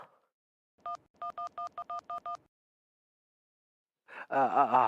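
A run of eight short, evenly spaced telephone keypad tones plays quietly while a call is dialed, then a voice starts speaking after a pause.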